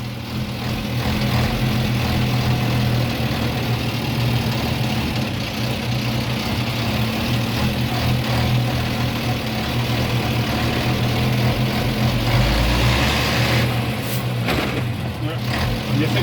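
Star 200 truck diesel engine idling, a steady low rumble with a mid-frequency drone running throughout, with voices talking over it.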